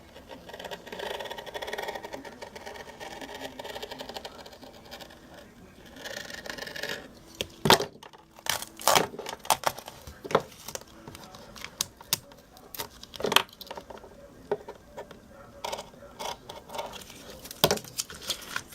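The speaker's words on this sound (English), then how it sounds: "take your duct tape sheet and you want to trim off any excess sticky" Excess sticky edges are trimmed off a duct tape sheet, scissors snipping and tape crinkling in irregular sharp clicks, close and quiet, following softer rustling at the start.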